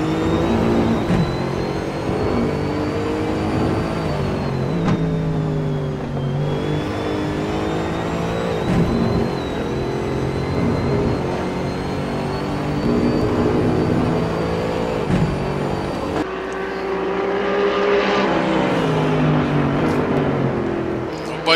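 Race cars in a GT racing video game at Hockenheim: loud, continuous engine whine from several cars, rising and falling in pitch through gear changes and revving without a break.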